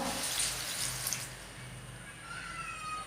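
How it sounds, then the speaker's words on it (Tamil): About half a tumbler of water is poured into greens cooking in a pan, a soft, fairly faint watery splash and trickle that eases off, with no one speaking. "போட்ட பிறகு ஒரு அரை டம்ளர் அளவுக்கு தண்ணி சேர்த்துடுவோம்"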